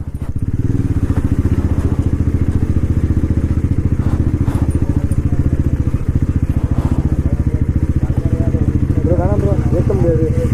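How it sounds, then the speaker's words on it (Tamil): Motorcycle engine pulling steadily under throttle on a road ride in Kerala, a loud continuous close-up drone with rapid even firing pulses and wind buffeting, plus a rider's voice briefly over it. "சும்மா த்ராட்டில் பண்ணா அப்படியே இழுத்துட்டு போகுதுங்க வண்டி"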